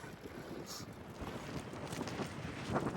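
Strong wind blows outdoors, a steady broadband roar buffeting the microphone with gusty swells throughout.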